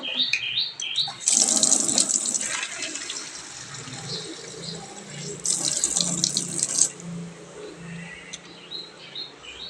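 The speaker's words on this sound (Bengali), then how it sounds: "জল দেওয়ার জন্য বোতলটা ভরে নেব" Tap water runs into a bottle in a home kitchen, a steady rushing stream rising in two louder bursts, with faint birdsong in the background and no talk.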